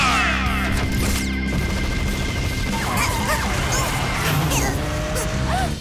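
A missile attack fires in an animated battle-car show: a dense, continuous barrage of whooshing, crashing, gunfire-like blasts with sweeping electronic effects and background music, loud throughout.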